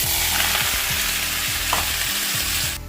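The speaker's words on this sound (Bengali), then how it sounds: "কালো জিরে ফোড়ন দিয়ে একটু আলুর তরকারি রান্না করছি।" Potato curry fries in a pan with a black cumin tempering, a loud constant sizzle and crackle close by, broken by a few soft stirring scrapes, with no talking.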